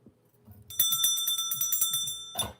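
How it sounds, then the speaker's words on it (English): A bell rings out repeatedly with bright sustained tones, struck in a quick series of rings close to the listener and ending in a final louder strike. "Ring the bell."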